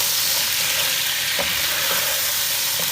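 Mutton pieces fry in hot oil with a steady, loud sizzle and occasional stirring scrapes, close up and continuous with no talking.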